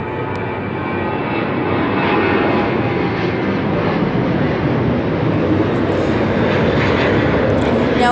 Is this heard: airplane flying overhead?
yes